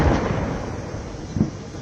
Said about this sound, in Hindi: ये तोपों की सलामी से शुरू गन सैल्यूट।